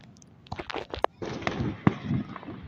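Independence Day fireworks burst at a distance, a cluster of sharp pops and crackles in quick succession over faint background murmur.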